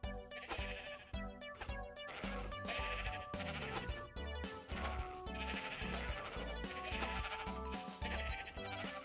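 Repeated sheep bleats from livestock in the video game ARK, wavering calls laid over a steady rhythmic musical backing with no voices.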